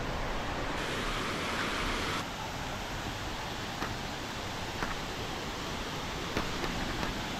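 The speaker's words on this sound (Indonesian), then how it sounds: "Ada air terjun dan kolam." A waterfall pours into a pool at a campsite in Selama, giving a steady, dense rush of water throughout with a slight drop in level early on.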